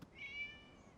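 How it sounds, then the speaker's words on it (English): A cat meows once in a video game, a single drawn-out, faint call with a rising then falling tone, heard alone with no talk. "It was just a cat."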